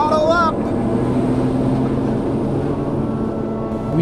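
An aircraft throttles up and takes off in Antarctica, its engine a loud, steady drone with a low rumble that holds for the whole stretch; a brief voice sounds at the very start.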